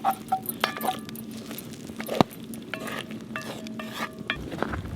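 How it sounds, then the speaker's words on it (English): Ingredients stirred together in a cooking pan inside a van, with scraping, clinking and tapping of a spoon against metal, some ringing clinks and one sharp knock, over a low steady hum. "we want to stir all of this together really well"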